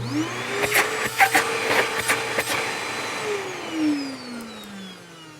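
An Electrolux Silverado canister vacuum cleaner motor whines steadily up close, pitch shifting as it spins up and later winds down, with some clicks and bumps along the way.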